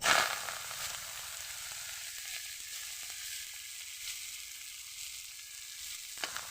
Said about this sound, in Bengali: শাকটাকে আমি সুন্দর করে একদম একটুখানি ভেজে ভেজে নিলাম